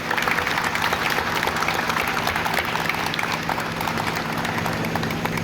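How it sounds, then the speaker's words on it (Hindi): Staff at a retirement party at an electric locomotive shed in Ludhiana break into loud, dense applause that stays steady for the whole stretch, close and filling the room. "मैं अपने ELS परिवार के सभी स्टाफ से भी सिर्फ 10 सेकंड के लिए ताली बजाने के लिए कहूँगा"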